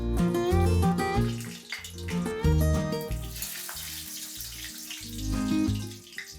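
Dried red chilies and bay leaves hit hot oil in a pan for a Bengali spinach dish, and a loud, steady sizzle and crackle rises up close under background music.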